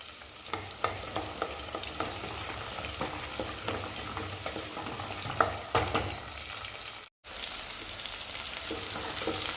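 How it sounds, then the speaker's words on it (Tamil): Whole small onions and curry leaves sauté in a pan for sambar, with a close, steady sizzle and regular scraping stirs and taps of the spoon, then a brief break before the frying hiss returns. "வெங்காயம் வந்து பாதி அளவுக்கு வதங்கிருச்சு"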